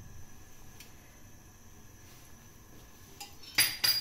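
Spoon stirring nuts and cardamom into milk in a pot, mostly quiet scraping with a few sharp metallic clinks near the end.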